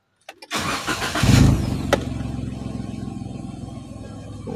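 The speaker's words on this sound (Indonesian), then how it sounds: "Coba kalau mesin dihidupkan sebentar." A car engine cranks and catches after a couple of clicks, revving loudly once before settling into a steady, close idle.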